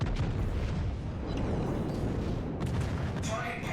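Battleship secondary guns firing in World of Warships, a dense continuous barrage of booming blasts and rumbling explosions throughout, with brief crackling bursts near the end.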